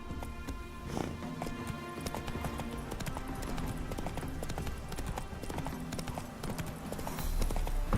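Horse hooves clip-clop steadily in a video game, a quick continuous trot set under a dense layer of game music and ambience.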